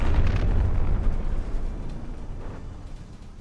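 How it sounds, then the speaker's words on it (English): A glide bomb dropped from a hang glider bursts in a naval battleship battle in a video game, a loud, deep explosion that rumbles and slowly fades over a few seconds. "Little torpedo from the hang glider. Or really it's a glide bomb, not a torpedo."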